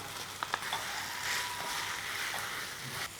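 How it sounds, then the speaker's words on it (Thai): Spaghetti being tossed with sauce, sun-dried tomatoes, capers, olives and bacon in a pan makes a quiet, even sizzle, with a few small clinks and scrapes near the start and end. "คลุกเคล้าเส้นกับตัวซอสนะครับ ใส่เบคอนลงไปครึ่งหนึ่งครับ"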